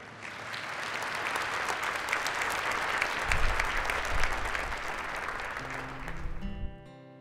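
An audience at a student academic awards ceremony applauds a performer coming on: steady, dense clapping from a full room that holds for about six seconds, then stops abruptly as a musical tone begins.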